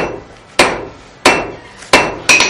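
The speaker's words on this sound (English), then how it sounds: "Over and over, you hammer and turn, 45 degrees at a time" A blacksmith at Fort Gaines on Dauphin Island, Alabama strikes hot iron with a hammer; four loud, sharp metallic blows land at uneven intervals, each ringing briefly before fading, with no talk.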